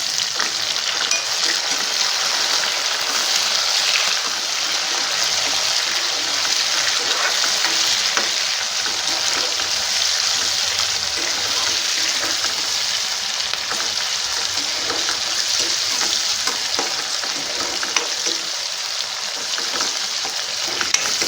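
Onion and tomato pieces fry in a pan for cabbage curry, a steady, dense sizzle crackling without pause throughout at close range, with no voices.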